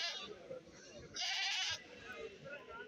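A goat's bleat rings out clearly for about half a second amid crowd chatter and background voices at a goat market in Kerala, with other faint animal calls nearby.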